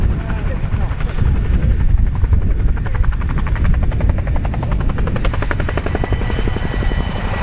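Loud, close Chinook helicopter reversing at an airshow, with heavy rotor thumping and a rhythmic chop over a deep engine roar, steady throughout.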